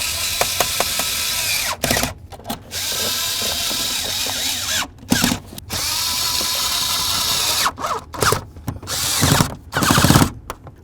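A power tool snugs down the mounting bolts of a parking brake ratchet assembly under the dash of a 1994-2004 Chevy S-10, whirring loudly and close in repeated bursts broken by short pauses.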